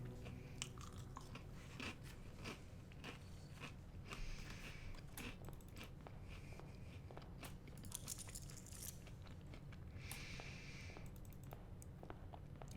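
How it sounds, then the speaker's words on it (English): Someone munches Goldfish crackers close to the microphone, a steady run of soft crunches and chewing clicks over about thirteen seconds with no talk. "You have to hear me munching on my goldfish for a bit."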